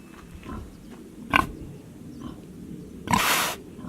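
A farm pig grunts and snorts while sniffing at a dead rattlesnake, giving a few short, close grunts spaced irregularly, with a louder, longer snort near the end.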